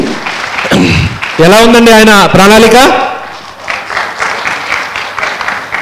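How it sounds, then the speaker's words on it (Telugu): Audience clapping for a speaker at a Shakahara rally in Srikakulam, swelling around a loud voice addressing the crowd and then continuing as a steady patter once the talking eases. "ఒకసారి గట్టి క్లాప్స్ కొడదాం మన విజయభాస్కర్ రెడ్డి గారికి"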